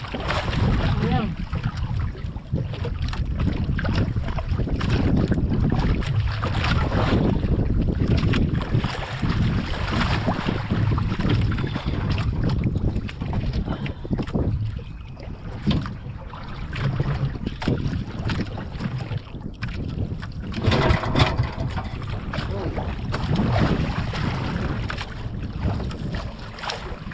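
A small fishing boat's outboard motor runs steadily on open water, a continuous low droning close to the microphone, with wind buffeting throughout.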